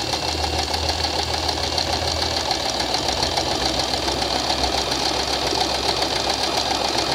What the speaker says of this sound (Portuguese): E aí você vai costurando. Sempre mantendo ele numa linha reta.